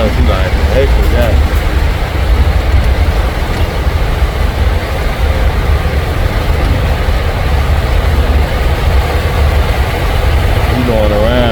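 A big truck's engine rumbles loudly and steadily as it rolls through deep flood water, a constant low drone lasting throughout while people talk over it.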